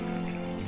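A glass of water poured into a cooking pot of drumstick curry, a brief close, steady liquid pour without pause or talk.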